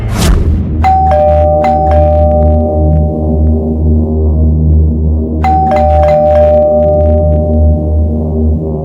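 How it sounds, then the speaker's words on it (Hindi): An electronic ding-dong doorbell chimes twice, a few seconds apart, each ring fading over a low, steady background hum. "तो मैंने कई बार डोरबेल बजाई,"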